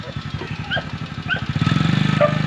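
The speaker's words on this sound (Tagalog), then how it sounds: "maingay yung motor mo" Motorcycle engine running close by alongside a homemade salt-water welding setup, a steady pulsing idle that grows louder and more rhythmic toward the end, with bird chirps above it.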